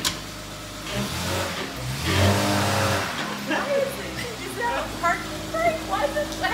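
Lifted Jeep revving hard for a one-wheel burnout, loud engine roar building and sustained with tire noise, then dropping off into bursts while people talk over it.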